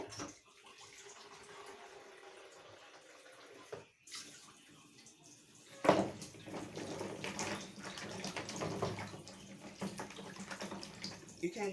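Tap water runs in a kitchen sink as carrots are rinsed, a faint steady splashing that thickens and grows louder partway through, with a brief interruption before the flow resumes.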